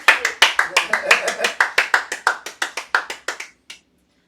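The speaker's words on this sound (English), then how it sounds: "That's not just a parental clap either." A small audience claps at a live comedy show in Chicago, delivering roughly twenty sharp, evenly paced claps that thin out and stop after about three and a half seconds.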